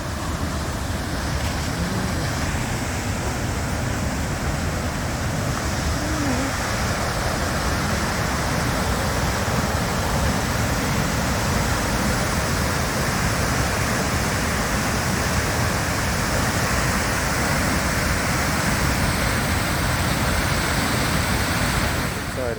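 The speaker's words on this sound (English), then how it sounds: "we made it to this little trail to see the waterfall here" A waterfall beside a trail high on Mount Rainier roars in a broad, steady wash of falling water, loud and close for the whole stretch with no break.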